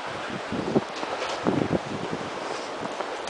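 Wind gusts at the seaside in snowy weather, buffeting the microphone with uneven rustling bursts and soft low rumble, fairly close and steady.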